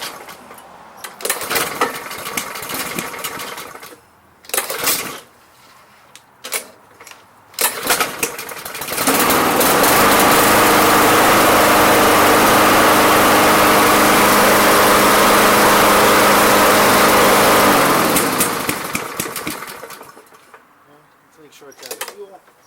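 Honda OHC engine on a Craftsman lawn mower, a garbage find that will not start properly, sputters briefly, then roars loudly for about ten seconds before fading and dying out, with short bursts and someone talking around it.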